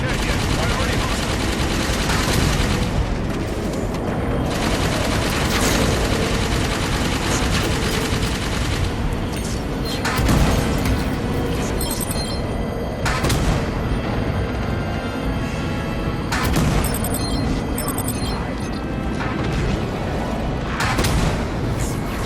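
Continuous gunfire and blasts from a Halo 5: Guardians firefight, with dense overlapping shots and booms running throughout, loud and busy, while squad voices call out under the combat noise.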